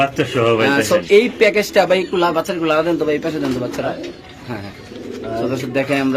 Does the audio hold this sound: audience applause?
no